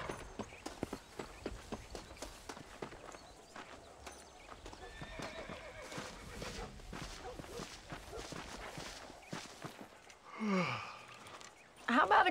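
Horse hooves clip-clopping during a ride in the video game Red Dead Redemption, a steady rapid gallop of hoof beats at moderate distance, with a horse whinny near the end.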